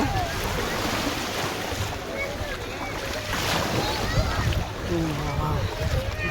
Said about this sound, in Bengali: এখন আমি সমুদ্রে নামছি